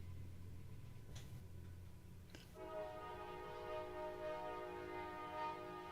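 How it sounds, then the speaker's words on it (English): A train passes at a distance, its horn sounding a sustained, steady tone for several seconds after two faint thumps, over a low rumble. "got a train going by"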